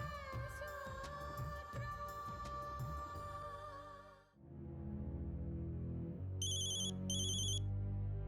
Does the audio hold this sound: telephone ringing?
yes